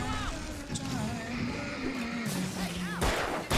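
Booming explosions of fireworks at a concert stage in the Alan Wake video game, heavy blasts near the start and louder ones near the end, mixed with gunfire-like cracks, a droning musical tone and shouting.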